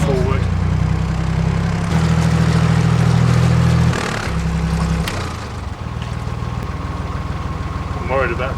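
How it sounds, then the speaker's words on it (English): A narrowboat's engine chugs with a low, steady rumbling hum as it moves the boat forward on the Coventry Canal, running close and continuously while people talk. "Just taking the boat forward."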